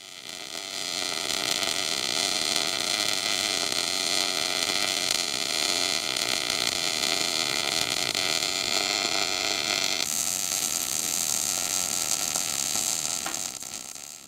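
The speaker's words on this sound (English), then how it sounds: "As you notice, I started welding on the left-hand side." Welding on a heavy duty trailer jack, a steady close sizzling hiss with electrical hum that runs almost unbroken for many seconds, shifts character partway through, then cuts off near the end.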